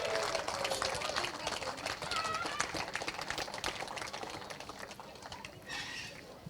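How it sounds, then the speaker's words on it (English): A crowd at a karting Grand Prix prize-giving gives a round of applause for the race winner, with brisk, busy clapping that slowly fades. Faint voices come through near the end. "Please, huge round of applause for the number 2 plate for Fusion Motorsport, Leo Robinson."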